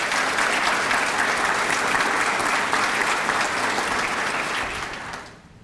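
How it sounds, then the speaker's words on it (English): Sustained applause from an audience at a community foundation scholarship awards breakfast, steady and dense for about five seconds before tapering off quickly at the end. "You tired of clapping yet?"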